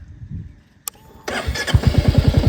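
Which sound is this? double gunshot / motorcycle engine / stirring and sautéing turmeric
motorcycle engine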